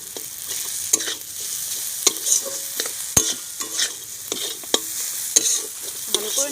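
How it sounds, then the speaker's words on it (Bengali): Amla pickle with sugar and salt is stirred in a pan, with repeated close scraping and knocking strokes of a spoon over a light, steady sizzle. "ভালো করে নাড়তে থাকবো যাতে চিনিটা গলে যায়।"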